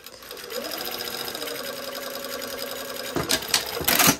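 A sewing machine runs steadily while stitching a sleeve seam on a jacket lining, its even mechanical whir continuous before a few clattering bursts near the end.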